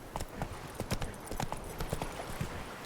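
Horse hooves clip-clop in The Witcher 3: Hearts of Stone, a short run of brisk, close hoofbeats in an even rhythm over faint game ambience.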